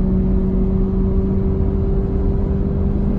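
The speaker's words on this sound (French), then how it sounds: "Là, vous voyez, le moteur thermique est à fond." Petrol engine of a Ford Mondeo SW hybrid straining at full throttle during highway acceleration toward 130 km/h, a steady loud drone with a sustained tonal hum and road rumble throughout, no talk.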